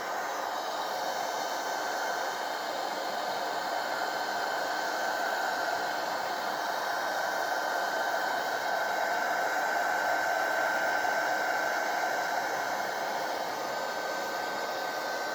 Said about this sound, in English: So I'm just going to come in now with the heat gun.